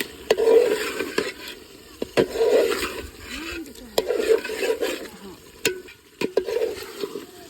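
Chicken pieces for biryani being stir-fried in oil in a village kitchen, with a steady sizzle and repeated scraping of a spatula against the pan, punctuated by sharp knocks, while a voice speaks faintly in the background.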